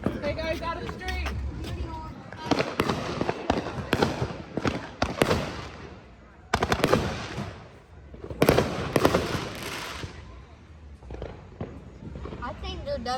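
Fourth of July fireworks in Florida crack and pop in rapid, irregular bursts close by, several loud clusters separated by short lulls, with people talking and calling out around them.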